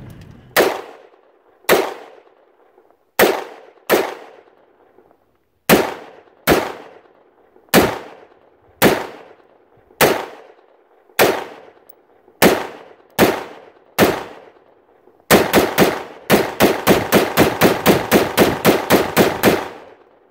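A Black Rain Ordnance Spec 15 rifle with its stock muzzle device fires about a dozen loud, sharp single shots at irregular intervals, then a rapid string of shots fired in quick succession, each with a short echoing tail.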